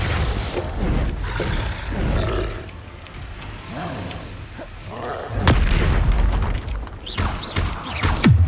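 The Confringo blasting spell goes off in the video game Hogwarts Legacy with booming, roaring explosions, loud and rumbling, with a sharp heavy burst partway through.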